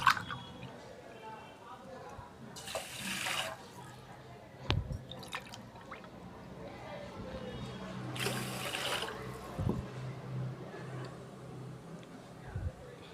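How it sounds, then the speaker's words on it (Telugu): Water from a glass is poured into washed rice for a pressure cooker in two short splashing bursts, with light drips and handling sounds between them in a quiet kitchen. "దీనికి 2 గ్లాసులు వాటర్ వేసుకోవాలి."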